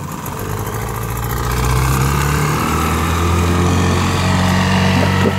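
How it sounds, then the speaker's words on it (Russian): A steady motorboat engine drones nearby, its pitch rising slightly as it revs, continuous throughout with no speech. "Тут кто-то на лодке приезжает"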